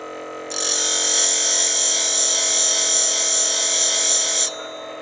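Skew chisel held in a sharpening jig and ground on a spinning grinding wheel, giving a steady, loud, high whining grind for about four seconds that starts and stops abruptly over the hum of the motor.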